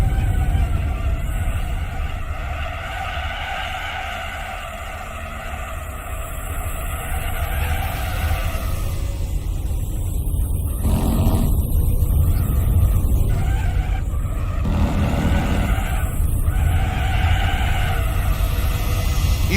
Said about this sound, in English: You can really hear the turbo spooling on this car. Very wild turbo.